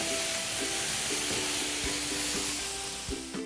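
Lamb burgers with a dark Kona coffee rub sizzle loudly and steadily in a hot pan just after flipping, a dense continuous hiss with a few faint clinks, no voices.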